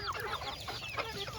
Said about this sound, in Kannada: ಎಲ್ಲಿ ಯಾವ್ದಣ್ಣ ಫೈಟರ್ ಹುಂಜ?